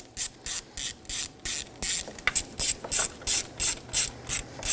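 Ratchet wrench clicks steadily in repeated bursts while tightening the bolts on a 1997-2006 Jeep Wrangler 2.4L timing belt cover, close and fairly loud, with brief metallic taps between strokes and no talking.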